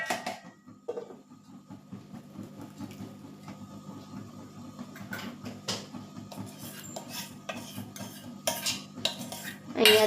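Fasting-style dhokla batter spread into a dhokla steamer plate, with scraping, tapping and the clink of a spoon against metal in a steady run of small taps, close and moderately loud.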